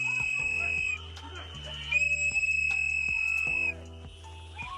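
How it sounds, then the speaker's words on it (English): Shrill, steady whistle blasts sound in long sustained tones, one stretching over nearly two seconds, with murmuring voices and background noise beneath. "I hate the whistles."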